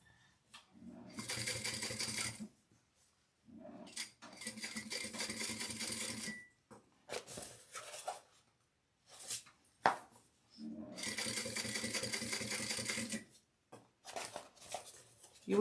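A sewing machine stitching a crossbody bag runs in several clear bursts of a few seconds each, separated by pauses with brief clicks and handling noises, fairly close and alone.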